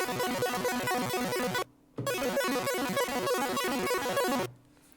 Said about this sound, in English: Just 2 saw waves with 4 and 3 voices